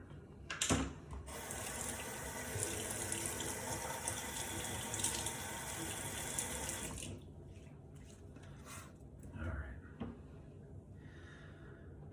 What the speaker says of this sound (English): get my face wet here, and we'll get into it